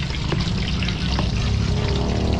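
Pork belly spits and sputters while frying in a pan for lechon kawali, a dense, continuous crackling hiss with scattered sharper pops, close and steady throughout.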